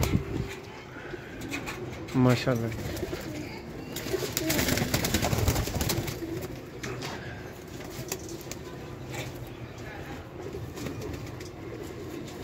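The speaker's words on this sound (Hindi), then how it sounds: "देखो बहुत शानदार माशाल्लाह कबूतर दोस्तों" Pigeons coo in low throaty rolls, some near and some softer, while someone speaks over them in a busy, crowded setting; a brief flutter of wings may also come through.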